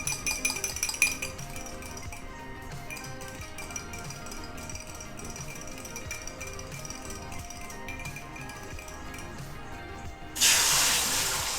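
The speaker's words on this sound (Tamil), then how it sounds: "எண்ணெய் விட்டுட்டு இந்த எக்கை வந்து லைட்டாக பீட் பண்ணிவிட்டு" A fork clinks repeatedly against a bowl, lightly beating egg with oil for pineapple prawn fried rice, then a loud hiss of frying takes over near the end.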